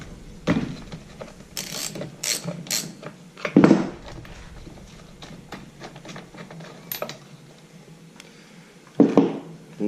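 A 3/4 inch socket wrench ratchets on a string trimmer's spark plug, giving short clicking and creaking bursts with metallic clanks, close and intermittent with quiet gaps.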